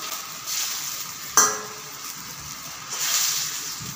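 Brain fry with fresh mint leaves is gently turned in a hot pan, giving a steady close sizzle and hiss, with a brief sharp scrape of the spatula partway through.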